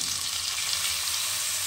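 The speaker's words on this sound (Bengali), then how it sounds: "মশলাটা এবার ভালো করে কষিয়ে নিতে হবে" Spice paste of turmeric, chili, Kashmiri chili and cumin powders with salt and water, frying in a pan for a potato and pointed gourd curry; a dense, even sizzle close up.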